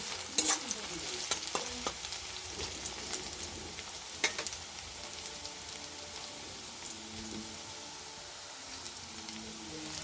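Chopped onion sizzles steadily in a hot pan (kadai) for an egg and bottle gourd dish, with soft scraping clicks of a spatula stirring it at intervals; close and fairly quiet.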